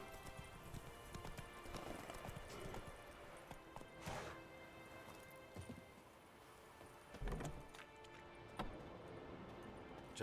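Roach, Geralt's horse in The Witcher 3, gallops along a road, a faint steady clip-clop of hooves under game ambience with a few sharper knocks along the way.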